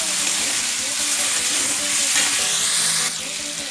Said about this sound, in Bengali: এবার এই উপকরণগুলো কিন্তু আমি ভালো করে নেড়ে চেড়ে দেবো এইভাবে